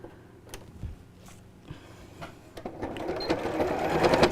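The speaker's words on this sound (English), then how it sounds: "I'm actually going to carry that line on and then carry on sewing" Sewing machine stitching fabric for a tablet sleeve with a pocket, starting with a few soft clicks and then building into a steady, louder run of stitching near the end.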